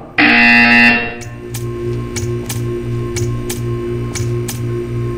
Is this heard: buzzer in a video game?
yes